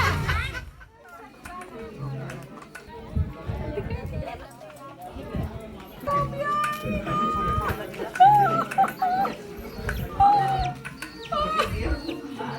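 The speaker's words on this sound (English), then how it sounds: "How sweet the chicken." Chickens clucking and making soft fowl calls amid lively chatter from several people talking nearby, with the birds' calls growing more noticeable in the second half.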